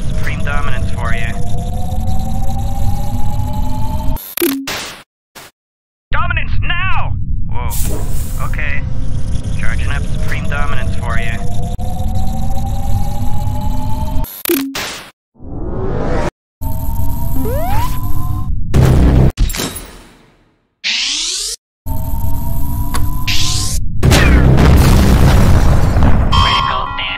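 A sci-fi superweapon called Supreme Dominance from a video game charges up with a rising, whining hum under steady droning, then booms and bursts in loud blasts broken by sudden silences; voices speak over parts of it.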